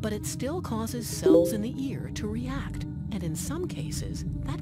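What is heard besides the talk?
None of the usual background noises is heard.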